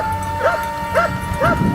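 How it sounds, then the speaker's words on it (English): Hunting dogs tracking wild hogs on a Georgia farm give three short, evenly spaced yelping barks, moderately distant, over a steady background hum. "The hunting dogs diligently continued their work, sniffing out and locating the wild hog's hiding spots."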